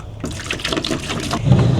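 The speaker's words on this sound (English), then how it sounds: "So we're just gonna put 1 gallon of water in here." A gallon of water pours into a container for a window-washing mix, a steady splashing, gurgling fill that runs loud and close throughout, with no talking.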